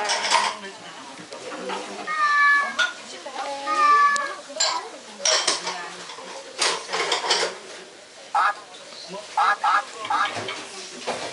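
A cat meows several times up close, its cries mixed with clattering dishes and people talking nearby.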